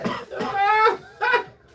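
A person's cough, heard as two or three harsh voiced bursts close to the microphone, with a rough, throaty tone and short pauses between them.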